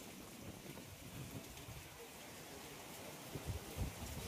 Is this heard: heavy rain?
yes